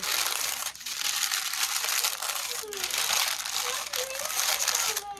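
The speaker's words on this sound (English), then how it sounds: "And then I'm gonna put it on my parchment paper." Parchment paper crinkles and rustles continuously as sourdough dough is set down on it in a home kitchen, close and fairly loud.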